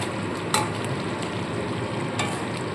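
Whole spices are stirred in ghee in a frying pan while cooking stuffed pointed gourd, giving a steady, close sizzle with a few sharp scrapes of the spoon against the pan.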